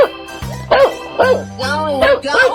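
A dog barks a few times in a 3D animal video game, the bursts bright and cartoonish over a bouncy game tune and sustained musical tones.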